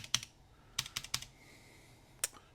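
Keys clack on a homemade external keyboard built for a Husky Hunter computer, with an irregular run of crisp, close taps and short pauses between them and no voices.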